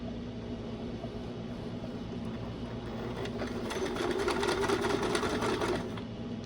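An older home sewing machine fitted with a Microtex needle hums and whirs steadily at a 2 stitch length, close and continuous, building slightly louder toward the end.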